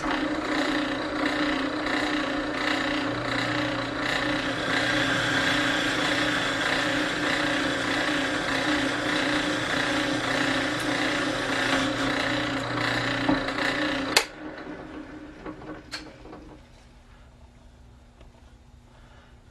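A drill press bores a clearance hole for a 3/8-16 bolt through a top workpiece in a lab, its motor running as a steady loud whir with the cutting load, then shutting off and spinning down to a faint hum near the end.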